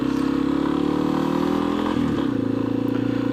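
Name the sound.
Yamaha XT 250 motorcycle accelerating through first gears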